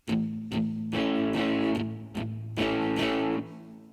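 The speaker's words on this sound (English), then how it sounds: "it's our right hand with the palm muting and controlling what strings we hit that's going to make this bar sound like it does" A distorted electric guitar plays a palm-muted bar from a song lesson, with chugging muted notes broken up by bursts of ringing chords. It sounds loud and close, with no talking.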